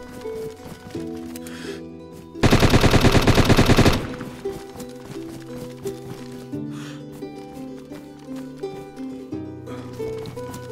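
Rapid automatic gunfire rattles through a DayZ game scene, a dense burst of about a second and a half standing out loudly over steady in-game music and ambience.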